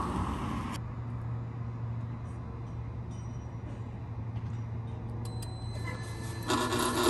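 Sliding gate at a storage facility rolling along its chain drive, giving a steady rough grinding and scraping rumble with a constant low hum, with a louder clatter as it starts and again near the end.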